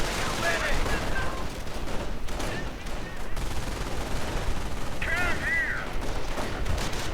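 Gunfire from a Sherman tank and infantry rifles, with German MG42 and Volksgrenadier fire, in a World War II strategy video game. Dense overlapping shots and bursts roll on continuously as a busy, steady battle din.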